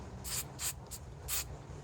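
Four short hissing spray bursts from an Aqua Net hairspray can, quick and close, with brief pauses between them and no talking.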